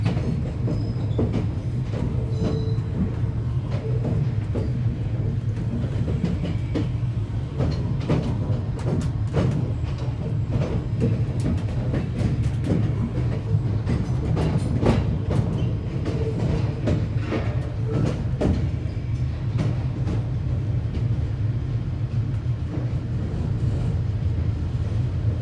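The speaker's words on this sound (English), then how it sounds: "What's happening is we are moving a bit slow as we go through the points." An LNER Azuma Hitachi AT300 train rolls slowly over points, heard from inside: a steady low rumble with irregular clicks and clacks from the wheels, continuous and moderately loud, with no voices.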